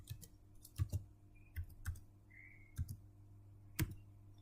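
Keystrokes on a computer keyboard while a matrix is entered in Maple math software: sparse, irregular quiet taps and clicks with pauses between them, fairly close, in a quiet room with no talking.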